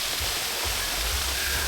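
A waterfall roars steadily on a Mt Vaea hike in Samoa, a close, dense and continuous rush of falling water with no pauses.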